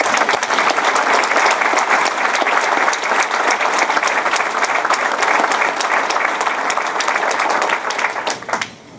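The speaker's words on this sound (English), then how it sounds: "Let's give them a round of applause." A crowd at a State of the City event claps for Marine Raiders, loud, dense applause with crisp individual claps holding steady for several seconds before tapering off at the end.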